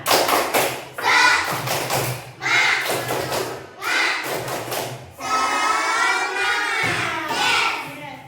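A class of schoolchildren performs the tepuk semangat clapping chant, with loud rhythmic clap bursts in groups alternating with chanted children's voices, ending in sustained shouting together.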